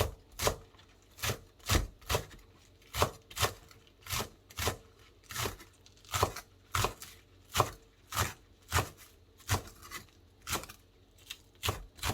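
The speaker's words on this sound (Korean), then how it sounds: "송송송 썰어서 준비해 놓고" A kitchen knife slices vegetables for a spicy radish salad on a cutting board in crisp, evenly spaced chops, about one or two per second, close and clear with no talking.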